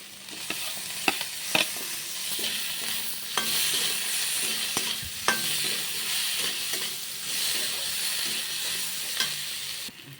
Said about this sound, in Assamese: এতিয়া ইয়াতে বিলাহী দিম।